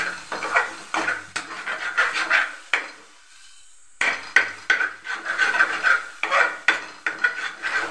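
A spoon scrapes and stirs tomato masala in a pan in quick rhythmic strokes, close and fairly loud, with a faint sizzle, pausing briefly before the stirring resumes.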